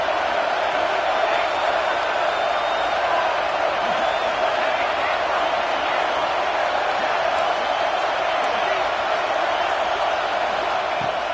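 A large stadium crowd at an Ohio State vs UCLA college football game roars steadily and loudly throughout, a dense wall of cheering and shouting with no breaks.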